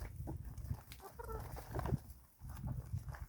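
Chickens feed on a morning treat close by, soft clucks and low murmuring calls mixed with pecking and rustling, a busy flock sound.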